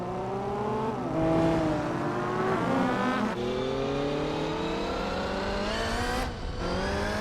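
Several race car engines from Gran Turismo 4 at Laguna Seca, including a rival Toyota, scream loudly and continuously, their pitch sweeping upward through repeated gear changes with no talking.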